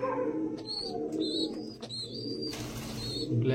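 Pigeons kept for sale in a village make soft low coos and murmurs while higher chirps from chicks come and go, under a faint background hum.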